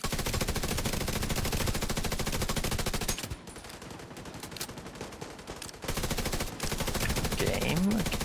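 Rapid automatic gunfire from a player's weapon in a first-person video game, a dense continuous burst that drops out briefly midway before resuming loudly, with some game voice underneath.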